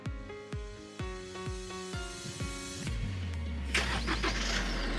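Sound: Chevrolet Colorado pickup engine starting by remote key

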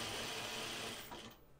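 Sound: flatbed sewing machine sewing thin napkin fabric

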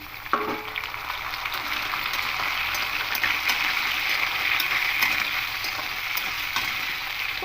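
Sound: potato, carrot, eggplant and pumpkin frying in oil

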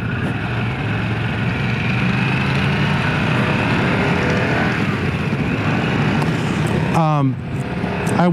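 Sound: Harley-Davidson CVO Pan America motorcycle exhaust

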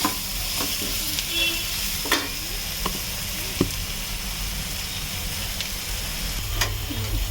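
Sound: onions frying in a pan

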